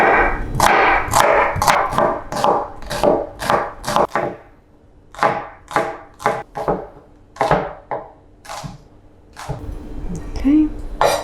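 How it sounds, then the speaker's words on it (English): Knife chopping shallot and garlic for a tomato sauce, a steady run of crisp close cuts on a board with a brief pause midway. "So next we'll chop the shallot and the garlic"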